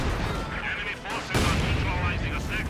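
Mortar fire in a Company of Heroes-style strategy match, a sharp explosive boom partway through over rumbling battle noise and scattered gunfire, with a voice talking over it.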